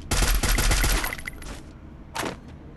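Gunfire in the game Free Fire: a loud burst of rapid shots for about a second, then scattered fainter shots and one more short burst.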